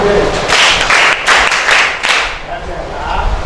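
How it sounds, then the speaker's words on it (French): Students applauding a classmate in a classroom, several bursts of clapping over about two seconds that fade into quieter room noise. "Applaudissez pour lui."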